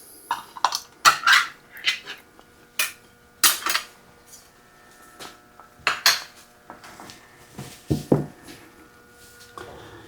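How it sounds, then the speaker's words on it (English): Cans of beans being opened in a home kitchen, scattered sharp metallic clinks and clatters in irregular bursts with quiet gaps between, close and fairly loud, plus a brief low thump near the end. "let me go ahead and get these beans opened up"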